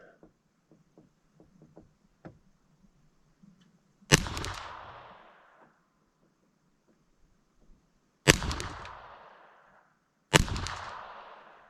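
Three loud, sharp gunshots from a Ruger 22 Charger pistol at an outdoor range, each with a long echoing decay, spaced several seconds apart after soft handling clicks.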